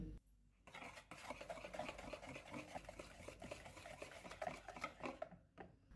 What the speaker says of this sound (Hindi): एक बाउल में अंडे डालेंगे, पाउडर शुगर, इनको मिक्स करेंगे